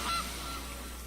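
A short goose honk sound effect from the card game MtG Arena, one brief loud call at the start that fades quickly into a low steady background hum.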